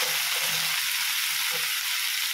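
Cauliflower frying in a pan, a steady bright sizzle throughout with faint stirring scrapes, close and alone.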